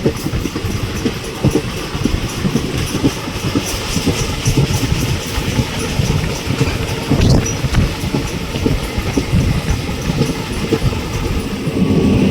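A passenger train on the Lathi to Junagadh line rumbles steadily along the rails with a continuous rhythmic clatter of wheels, loud and close, as if heard from inside a moving carriage.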